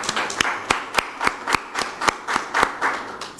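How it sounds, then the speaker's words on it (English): Sparse, evenly spaced hand claps at a health and climate hacklab event, about a dozen sharp claps in a steady rhythm, close and fairly loud with no talk over them. "A round of applause for all the innovators."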